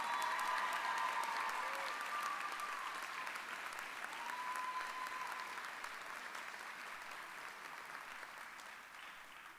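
A high school graduation audience applauds student speaker Kira, a long, even roar of many hands clapping in a large hall, slowly fading in intensity over nearly ten seconds with scattered faint voices.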